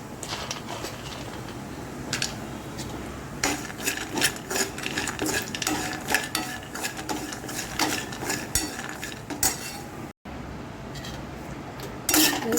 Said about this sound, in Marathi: त्यामध्ये आपण बदाम तुपामध्ये परतून घेऊया